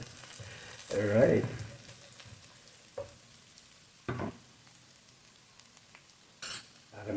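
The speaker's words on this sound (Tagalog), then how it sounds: "Ilagay ko na kagad ang ating minced garlic." Minced garlic hits a hot frying pan with a loud burst of sizzle, then fades to a low frying hiss broken by a few sharp utensil knocks against the pan; someone speaks briefly.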